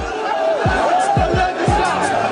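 Crowd of Tunisian protesters during the revolution shouting together, rhythmic chant-like bursts of massed voices with a few strong low pulses, loud and close.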